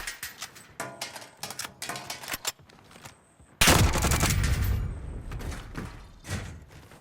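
Shooter video game gunfire: rapid bursts of close, sharp shots in uneven clusters, then a loud heavy blast with a long rumbling tail, followed by a few more scattered shots.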